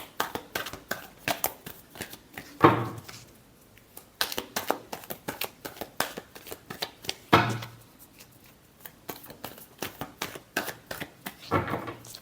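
Playing cards shuffled during a Leo tarot reading, several rapid riffling bursts separated by short pauses, close and moderately loud with no talking.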